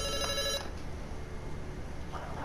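A Discord incoming call ringtone chimes faintly with a short repeating tonal pattern at the start, over a dense noisy background during a Conan Exiles gaming session, with no talk.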